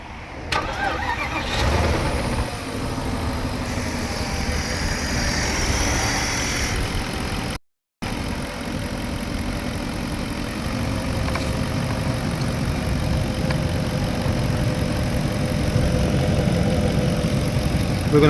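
A Porsche Cayenne Turbo with coolant leaks cranks and fires up, then settles into a loud, steady close-up idle with a constant low engine drone, interrupted once by a brief cut-out.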